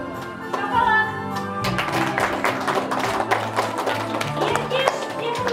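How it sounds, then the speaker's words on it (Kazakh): Applause breaks out at a 2016 kindergarten graduation party after a voice calls names, a dense patter of many hands clapping that continues steadily to the end. "Шапалақ."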